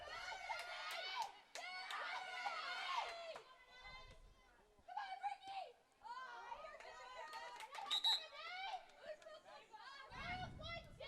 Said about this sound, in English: BG sensing the end of the game here and cheering each other on pretty heartily